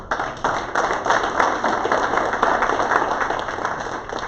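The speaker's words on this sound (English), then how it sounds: "So let's give another round of applause to our recipients this morning" Brisk, even clapping from a modest crowd at a morning Rotary club meeting honoring award recipients, continuous and fairly close, with distinct individual hand claps throughout.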